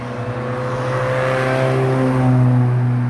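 A small car passes close by, its engine note rising and shifting in pitch as it approaches and goes by, loud and steady with no voices over it.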